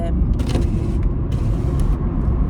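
A small car with a 1.4-litre engine drives along, a steady low engine and road drone inside the cabin, with faint brief clicks and rustles above it.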